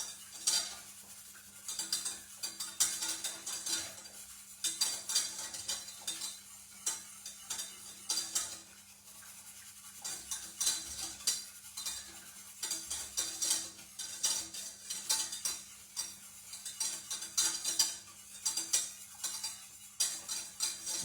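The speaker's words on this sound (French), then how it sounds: "On fouette, on fouette, on fouette." A whisk beating vanille cake batter for a Christmas log in a bowl, quick rhythmic clinking and scraping strokes in bursts, close and fairly loud with no talk.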